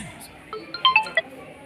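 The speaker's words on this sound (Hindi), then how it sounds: "फोन आ रहा" A phone at a Sai Baba temple in Bidar rings with a short, bright electronic melody of a few beeping tones, moderately near and fairly quiet against a low background hum.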